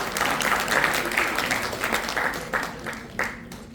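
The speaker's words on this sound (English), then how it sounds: "let's give a round of applause for him" Applause from an induction event crowd for a guest speaker with Guinness World Records, a dense wash of clapping with some louder individual claps, gradually thinning toward the end.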